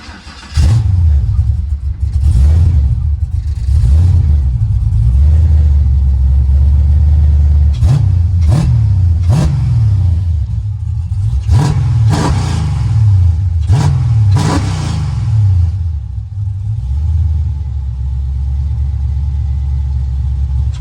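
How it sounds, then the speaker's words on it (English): A 1988 Oldsmobile Cutlass 442 engine starts with a rumble, then settles into a loud idle broken by a series of sharp throttle blips and revs, close to the car, with no talk. "I'm gonna give y'all a start and give y'all a couple of pats on the gas to let y'all see what we working with"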